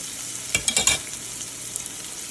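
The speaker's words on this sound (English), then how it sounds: "Sauteed for 2 minutes" Homemade fish seasoning for escovitch salmon sizzling and being stirred in a hot pan, a steady close fry hiss with a few quick scraping stirs.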